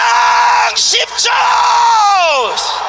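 A crowd at a rally shouts and cheers in loud bursts, with piercing screams and yells rising and falling, one voice swooping downward, near and overpowering.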